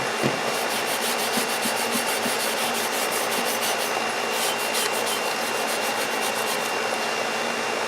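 Coarse-grit sandpaper is rubbed back and forth over an old rusty axe head, a close, continuous scratchy abrasion with rapid strokes that stays even in loudness from start to finish.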